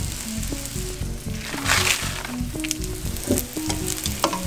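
Chicken pieces hit a pan of hot butter and oil seasoning side down, raising a strong, steady sizzle that swells around the middle, under a background of rhythmic music.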